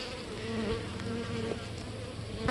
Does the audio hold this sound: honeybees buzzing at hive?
yes